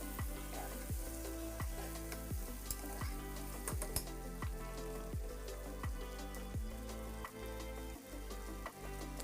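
Chopped beans, peas, carrots and potatoes frying in a pan, a continuous sizzle with regular scraping strokes of a spoon stirring the vegetables, close and steady throughout.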